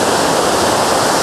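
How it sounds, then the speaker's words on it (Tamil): Water rushes loudly over Kodaikanal falls, heard up close as a dense, unbroken roar with no talk. "தண்ணி அடிச்சுக்கிட்டு போகுது."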